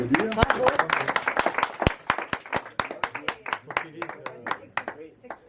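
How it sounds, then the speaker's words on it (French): A small club group applauds a newly inducted member, a modest round of individual hand claps that starts dense and thins out into scattered slower claps, with some voices under it. "je pense qu'on peut l'applaudir."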